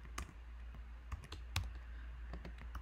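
Keys clatter on a computer keyboard in short bursts of irregular clicks, close and moderately quiet over a low steady hum, with no talking.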